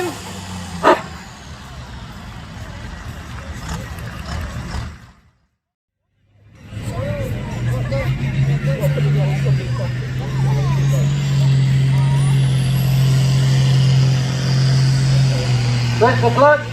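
A Ferguson TE20 tractor engine works under load with a loud, steady low rumble that cuts out briefly, then returns stronger and sustained, while someone talks over it.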